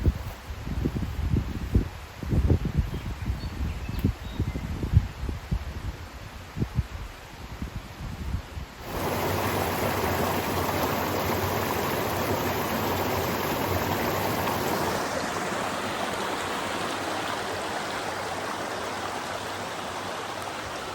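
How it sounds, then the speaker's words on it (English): River flowing beside an alpine lake campsite in New Zealand, a steady broadband rushing water noise that grows louder and closer halfway through after rustling and footsteps, continuing without pause. "But I can actually hear the river."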